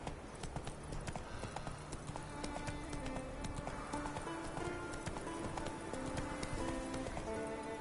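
Roach, Geralt's horse in The Witcher 3, gallops with a fast, steady clip-clop of hooves under continuous ambient game music, with a brief whinny possible amid a faint rain-like patter.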